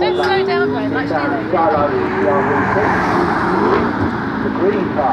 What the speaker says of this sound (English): The McLaren 650S, the blue Jaguar, and the blue and black BMW i8